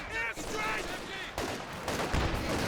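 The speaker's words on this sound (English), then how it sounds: "Strafe coming through on the machine gun." Machine gun strafe in the Company of Heroes 2 real-time strategy game, a dense burst of rapid gunfire and impacts in a 4v4 battle, running continuously under a commentator's voice.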